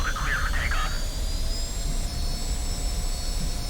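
A jet engine roars steadily as an F-86F Sabre in DCS World throttles up on the runway, a broad continuous rumble and hiss with a brief high whine at the start.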